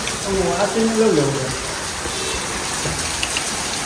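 Steady hiss of heavy rain pouring down in Bhuj, with a voice talking briefly over it at the start.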